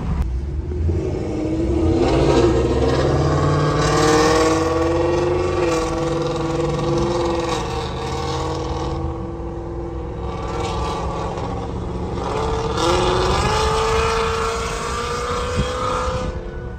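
A Ford Mustang with a Corsa Xtreme exhaust and catless long-tube headers revs loud and near, rising and falling in repeated deep, raspy pulls over a rumbling idle.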